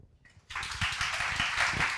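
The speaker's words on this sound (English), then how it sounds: "So please give a round of applause for Carl Nassmann and the panel." Applause breaks out suddenly after a brief pause and continues as a steady patter of many clapping hands, fairly faint and distant.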